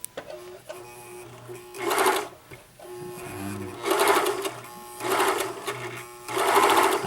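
A White Superlock 534 serger stitching a fabric sample, running in several fast, buzzing mechanical bursts with brief pauses between, close and steady in tone.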